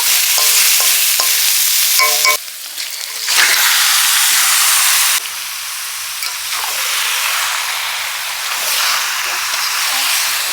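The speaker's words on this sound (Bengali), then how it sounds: "মশলাটা কালচে রং ধরেছে মাংস দিয়ে এবার কষবো" Poultry meat frying and being stirred into darkened spice paste in a pan, a loud steady sizzle with scraping stir strokes, the hiss surging as the meat goes in.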